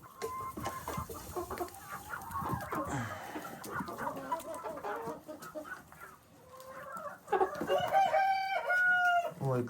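Hens in a village coop cluck and murmur while eating mixed feed, with scattered soft calls and a louder rooster-like crow near the end, under brief quiet voices.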